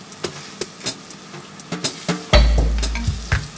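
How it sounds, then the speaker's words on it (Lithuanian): Flour-coated meat patties frying in a hot pan: a few light taps and clicks, then a sudden loud sizzle as they hit the oil, crackling steadily close by. "išvoliojam miltus ir dedam į karštą keptuvę ir kepam"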